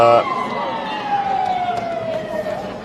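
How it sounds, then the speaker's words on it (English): A faint siren wails in the distance, its tone sliding slowly downward beneath Australian rules football crowd noise and a talking voice. "I thought that could have been a siren."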